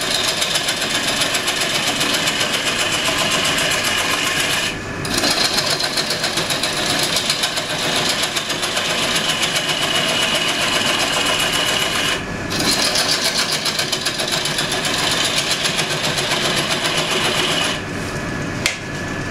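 A wood lathe drones steadily while a shear cutter, used like a skew chisel, trims the middle of a wooden platter held against a pressure plate by the tailstock. The hum is loud and unbroken, with brief dips in the cutting.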